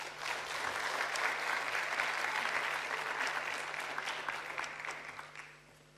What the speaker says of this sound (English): Clap again, clap again. That was really good.